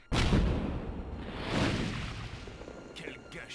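An explosion in the PC game Tomb Raider 3 sets off a sharp, loud boom that decays into a rumbling roar, followed by a couple of faint thuds.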